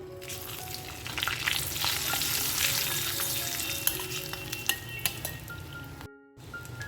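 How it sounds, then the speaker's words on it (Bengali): Bay leaf, two dried red chillies, cumin, green cardamom, cloves and a piece of cinnamon crackle and sizzle steadily in hot oil for a Bengali pointed gourd dish, with a few faint clinks of a utensil near the end. "দিয়ে দেবো ফোড়নে একটা তেজপাতা দুটো শুকনো লঙ্কা একটু জিরে ছোটো এলাচ লবঙ্গ দারচিনি এক টুকরো"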